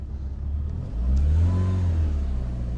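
A car with a freshly rebuilt forged engine pulls away on its first drive in about eleven months; after a low idle the engine note swells into a loud, close, sustained rev as it moves off.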